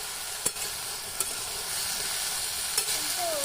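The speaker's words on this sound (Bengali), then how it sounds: "ভেজে নেব তেলে। তো ভালো করে ভেজে নিচ্ছি" Spinach frying in hot oil in a village kitchen, with a steady close sizzle under a few sharp clacks of a spoon stirring the leaves, and no talk.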